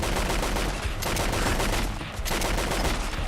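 Rapid gunfire from the video game Fallout London goes on almost without a break as close, loud, dense bursts of automatic shots with no gaps between them.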